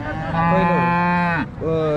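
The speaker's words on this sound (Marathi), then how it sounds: "गाय बघा ही" A Jersey cow at a cattle market in Sangola moos loudly and close by, one long drawn-out low call that briefly dips and then resumes.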